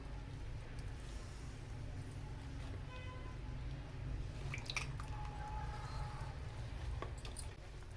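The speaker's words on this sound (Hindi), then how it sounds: "अब इनका हम पानी निकाल देंगे। इस तरह आपने हाथ की मदद से दबा के इसको पानी निकाल देना इसका" Soaked lentil fritters for dahi bhalle are squeezed by hand to press out water, making faint wet squishes and a few drips over a low steady background hum.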